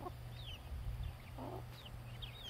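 Chickens cluck softly nearby, a few brief murmuring calls over a low background hum and faint distant chirps.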